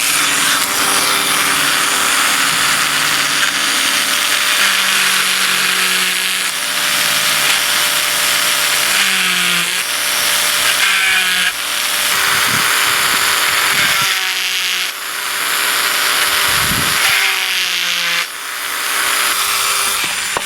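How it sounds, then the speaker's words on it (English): A high-pitched Dremel rotary tool whines steadily, its pitch dipping and rising as it grinds holes larger in a metal can, with brief pauses between passes. "Now I'm just going to take my Dremel tool and I get to work on making those holes bigger."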